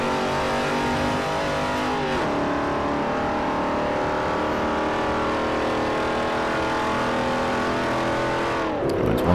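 A heavy saloon car races in Forza Motorsport 4, its engine holding a loud, steady drone with a brief dip and shift in pitch early on and another change near the end, with no one talking.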